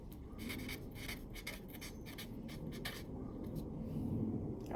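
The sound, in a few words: writing a sentence by hand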